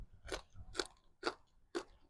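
Someone chews bitter laab in four evenly spaced crunchy bites, close and fairly quiet, with no talking.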